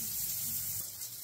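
Water from a shower in a small hotel hut in Guatemala runs in a steady, soft hiss with no talk.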